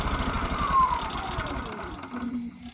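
Champion open-frame inverter generator running in eco mode, a steady mid-pitched engine drone that gently lowers and eases off as it settles toward a quieter idle.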